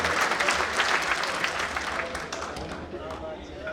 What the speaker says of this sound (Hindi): जोरदार ताली से स्वागत